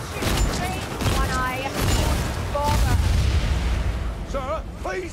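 Dense, booming gunfire from a fight in the video game Cyberpunk 2077, sustained heavy bursts rolling continuously with voices shouting over the din.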